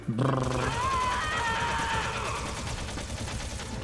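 Sustained gunfire in Metal Gear Solid, a steady rattling stream of shots layered with a roaring game sound and a voice at the very start.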